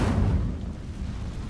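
An Incendio fire spell is cast in the Hogwarts Legacy video game, a single low, booming whoosh of flame that bursts loudly, then settles into a brief rumbling crackle.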